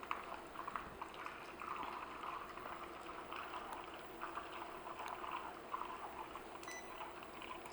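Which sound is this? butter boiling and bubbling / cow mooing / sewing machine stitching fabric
butter boiling and bubbling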